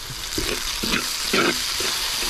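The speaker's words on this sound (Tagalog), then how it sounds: "Yan, gisado na." Vegetables sautéing in a pan while fish dish is cooked: steady, loud sizzling and frying with rhythmic scrapes of stirring every half second or so.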